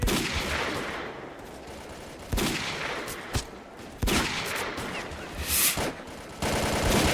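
Enemy gunfire in the shooter game S.T.A.L.K.E.R.: Call of Pripyat, with repeated loud bursts and sharp single shots cracking over a sustained noisy battle ambience, alone without talk.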